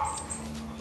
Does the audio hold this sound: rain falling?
no